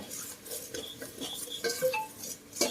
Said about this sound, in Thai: ก็ ผัดพริกแกงให้มันหอม นี่นะ